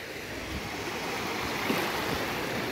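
At Praia Martim do Sá in Caraguatatuba, a river spills out onto the beach into the surf, making a steady, close, continuous rushing roar of water with no voices.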